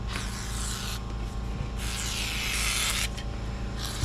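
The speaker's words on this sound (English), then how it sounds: "spray on the bead of the rim itself" Liquid sprayed from a spray can onto the bead of a tire rim on a Foreman, several hissing bursts of varying length over a steady low background hum.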